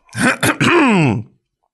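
A man clears his throat up close: two short rough coughs, then a longer, drawn-out groaning rasp that slides downward and fades, with no other sound around it.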